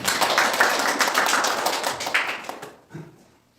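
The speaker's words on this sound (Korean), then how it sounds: "큰 박수 주십시오" Audience applause at an information session welcoming a presenter, a brisk burst of clapping that fades out near the end, leaving a short quiet tail with a faint sound.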